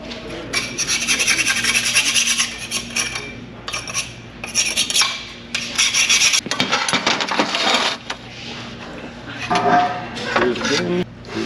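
A lawn mower blade is sharpened with a file in repeated rasping strokes, loud and close, in rhythmic bursts separated by short pauses.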